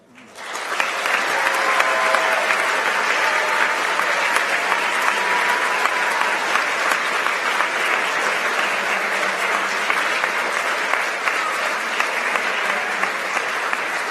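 At a school awards ceremony, a crowd breaks into loud applause for standing team members, swelling quickly and holding steady, dense clapping to the end.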